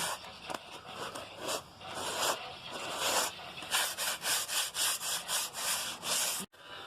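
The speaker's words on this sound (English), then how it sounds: "This is the first coat of Bondo, and I'm going to lightly sand it down and see where we're at." A first coat of Bondo body filler is lightly hand-sanded on a rusted car panel during rust repair, making loud, close, rhythmic back-and-forth scratchy strokes that stop abruptly near the end.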